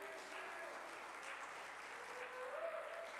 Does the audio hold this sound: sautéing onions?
no